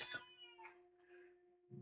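A cat gives a short, close meow that rises and fades, leaving a faint steady hum, before a brief soft noise at the end.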